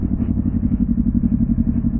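A steady, low mechanical engine rumble with a regular pulsing beat, like a motorcycle idling close by, continuous throughout.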